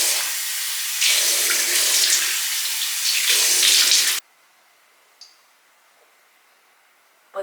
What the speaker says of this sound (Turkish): Şimdi yüzümüzü yıkıyorum.